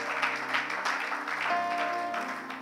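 A church congregation applauding and acclaiming the Lord, steady crowd clapping mixed with cheering voices throughout, with a sustained musical tone joining partway through.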